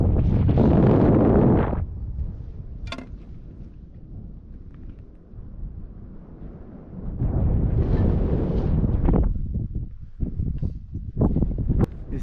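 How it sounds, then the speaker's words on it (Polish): Strong cold wind gusts across a mountain ridge at sunset, loud buffeting bursts striking the microphone, easing to a low steady rush between gusts before surging again, with no speech. "nieźle zimno, coraz mocniej wieje"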